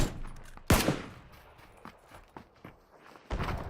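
Gunfire in a video game: one sharp, loud shot followed by a few softer scattered pops and a final burst, with quieter shuffling between them, no voices.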